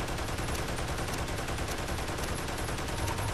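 A turret in the Toy Soldiers War Chest video game fires without a break, a dense, loud stream of rapid gunfire that continues evenly throughout, with no speech.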